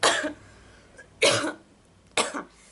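A person with a throat irritated by acid reflux coughs three times, each a harsh close burst separated by about a second of quiet, with no talking.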